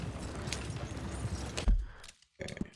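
Horse hooves clip-clop in a Red Dead Redemption 2 ride, a steady fairly close patter under game ambience and a voice, then a short drop out and a few more steps.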